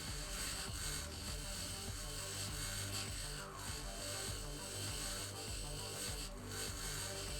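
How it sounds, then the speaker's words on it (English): An in-game grinder in Occupy Mars grinds down extra bits, producing a loud, steady, harsh whir that runs without a break, with no voices. "bring out your grinder and grind down these extra bits"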